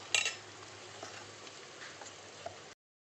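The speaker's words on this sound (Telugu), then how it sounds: "పసుపు వేసుకున్నాక తిప్పుకుందాం." Egg curry being stirred in a pan just after turmeric goes in, a short burst of utensil scraping at the start followed by a quiet, steady low sizzle and soft clinks.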